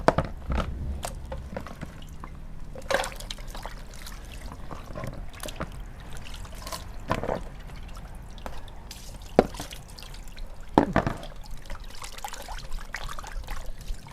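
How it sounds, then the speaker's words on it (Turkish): Bones for a traditional Hatay wedding dish, herise, are washed in water, with sporadic splashes, drips and trickles amid soft handling noises at a moderate, close distance. "Şimdi kemiklerimizi yıkıyoruz."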